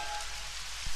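Steady rain falls in a continuous dense hiss, even and fairly loud throughout, with a soft low thump near the end.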